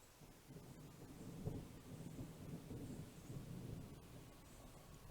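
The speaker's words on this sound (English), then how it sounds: "You better believe Da Vinci prayed for that rain for that cornfield" Steady rain hisses across a rural spot by a cornfield near a river, with low rolling thunder rumbling through the middle of it; a continuous, moderately distant storm wash with no voices.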